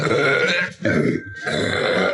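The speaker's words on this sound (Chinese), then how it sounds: "喝完可乐横扫饥饿，然后满意的打上一个嗝" A woman lets out long, loud, guttural burps after drinking room-temperature canned cola, close up and alone, with a brief break between drawn-out belches.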